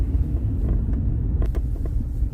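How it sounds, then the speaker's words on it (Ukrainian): Cars crawl through a slow traffic jam on a snow-covered road in Dnipro, heard as a steady low engine and road rumble, close and continuous, with a few faint clicks and no speech. "Тут іще йде тягнучка."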